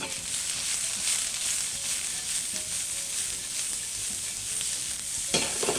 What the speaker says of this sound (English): Next we'll add our blanched and drained veggies. A little pinch of salt, fresh cracked pepper. We'll give them a saute.